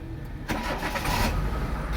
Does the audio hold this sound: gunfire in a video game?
no